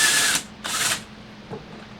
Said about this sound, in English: I'm taking a hand drill and just rounding those holes out just a little bit